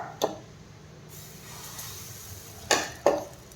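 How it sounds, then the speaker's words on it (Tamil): A metal tawa griddle is set onto a kitchen stove for dosa, with a sharp clank near the start and two more metallic knocks close together near the end over a quiet kitchen background. "ஒரு தவா வச்சிடலாம்."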